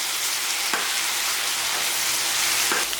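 Chicken pieces sizzle loudly in a pan for Madurai-style chukka or Kongu-style Pallipalayam chicken, a constant close frying hiss with a couple of soft stirring knocks.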